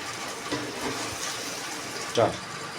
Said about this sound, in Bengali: এবার সামান্য একটু জল দিয়ে দিলাম